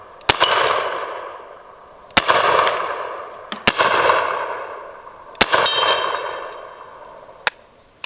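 Rossi Circuit Judge revolver shots: five sharp, loud reports spaced a second or two apart, each trailing off into a long ringing echo, with no talking.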